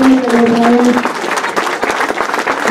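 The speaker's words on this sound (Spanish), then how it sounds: "Un aplauso muy fuerte para" Loud applause from a crowd at a religious festival procession for San Nicolás de Tolentino in Mixquiahuala de Juárez, Mexico, steady clapping throughout with a brief sustained tone at the start.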